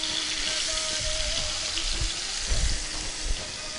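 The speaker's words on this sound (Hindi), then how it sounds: "तेल मेरा गर्म हो गया है। इसके अंदर मैं चिकन को डाल देता हूँ।" Chicken drops into hot oil in a pan and sizzles, a dense, steady hiss with small crackling bursts throughout, close and moderately loud.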